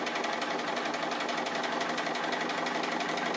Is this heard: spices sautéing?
no